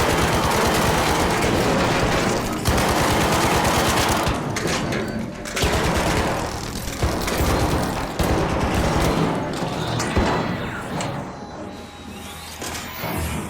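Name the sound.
video game gunfire, shooting at buttons in Arc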